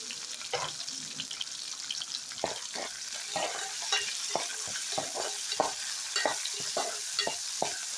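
Onion, garlic and green chili fry in a pan with a constant crackling sizzle, punctuated by frequent light clicks and scrapes of a spatula.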